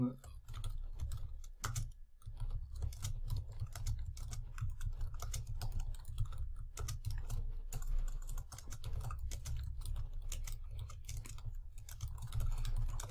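Steady typing on a KRUX mechanical keyboard, a rapid stream of soft clicking keystrokes continuing throughout at moderate volume, fairly close.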